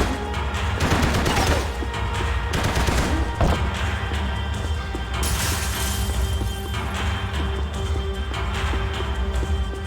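Gunfire in the video game Max Payne 3: dense, loud bursts of shots and crashing impacts pile up over a busy game soundtrack, with volleys clustering early and continuing throughout.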